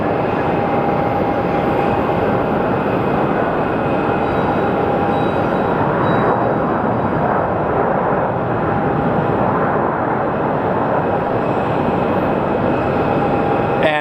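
Aircraft landing at Sky Harbor Airport, a loud continuous roar of engine and rushing air that holds steady throughout, heard from the ground.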